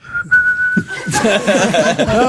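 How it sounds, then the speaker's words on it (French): A person whistles a short melody up close, a clear steady note sliding into a quick warbling run of pitches. "moi, je préfère siffloter"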